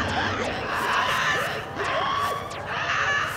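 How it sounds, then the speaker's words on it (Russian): Shrill, warbling creature screams in the video game Spore rise and fall in overlapping bursts over a busy, noisy game background, loud and close throughout. "Ой, как они кричали-то, как они не хотели лететь на колонию"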